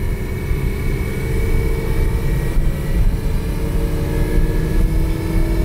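A Ford Explorer with a slipping 5R55W automatic transmission, its engine droning steadily at high revs with a low rumble and a faint whine, close and continuous as it shifts into second gear.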